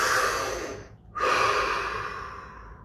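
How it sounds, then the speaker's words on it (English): A deep breath taken during a guided breathing exercise: a long close inhale, a brief pause, then a slow, full exhale trailing off, with no speech. "Deep breath."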